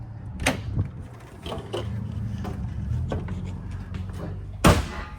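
A door on a 2025 Grand Design Reflection 360FLS fifth-wheel RV clicks and swings open, followed by scattered light knocks and shuffling, then a firm close thump near the end.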